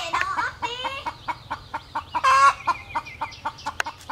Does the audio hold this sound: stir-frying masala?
no